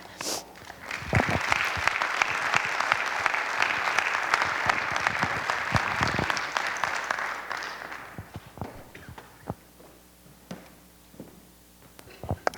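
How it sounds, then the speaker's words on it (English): An audience applauds warmly after personal stories at an evening event, a dense sustained round of clapping that fades out, leaving scattered claps and small room noises. "can we just do one more round of applause?"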